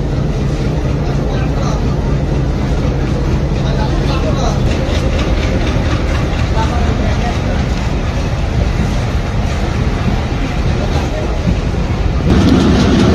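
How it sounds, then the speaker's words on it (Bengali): The Mongla commuter train pulls slowly out of Mohammadnagar railway station, a loud continuous rumble with rhythmic wheel clatter and rattling carriages heard from close by. "এই মংলা কমিউটার ট্রেনটি কিন্তু যে মোহাম্মদনগর রেল স্টেশন ছিল সেই রেল স্টেশন থেকে আস্তে"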